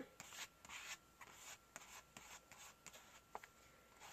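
A credit card scraper drags acrylic paint across a journal page, giving faint, close scraping and rubbing strokes in short irregular bursts with small taps between them.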